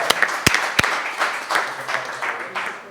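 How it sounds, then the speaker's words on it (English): A few sharp claps ring out, then scattered applause from a small crowd continues, with voices mixed in underneath. "round of applause for the other team coming in"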